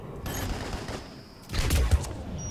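Gunfire in the video game Mass Effect 3, a burst of several shots and impacts in the last second, moderately loud, following a quieter stretch of game ambience.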